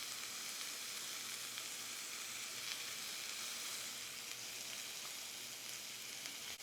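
Steaks sizzle in a pan with a dense, even hiss that holds steady throughout, faint but close, with no talking.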